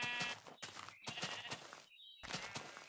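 Sheep in the Minecraft video game bleating in several short, faint calls separated by brief pauses, heard alone without talk.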